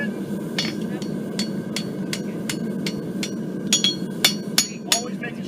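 A farrier's hammer rings on a hot steel horseshoe while putting a toe bend in it: a dozen or so crisp, evenly paced metallic strikes nearby, growing louder and sharper toward the end.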